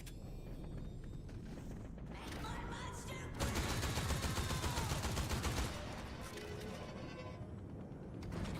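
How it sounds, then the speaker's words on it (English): Fortnite gunfire cracks in a quick automatic burst, faint and distant within a quiet game mix, then trails off into softer mechanical sounds. "somebody was shooting"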